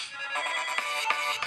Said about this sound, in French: Comme je n'ai pas de MP3, j'aime bien lancer la musique de Nokia.